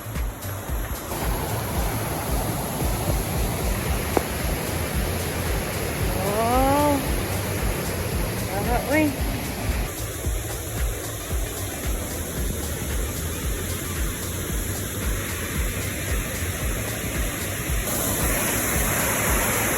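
Kilobag Water Falls in Claveria, Misamis Oriental, gives off a steady, full roar of falling water that fills the whole stretch at an even level, with a few faint higher tones drifting over it.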